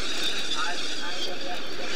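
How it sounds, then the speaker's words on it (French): Italian Frecce Tricolori jet aircraft engines run up at the Sion airshow, heard as a steady, distant broadband roar and hiss under a commentator's ongoing talk. "Le bruit que vous entendez sans doute, ce sont les Italiens qui se préparent"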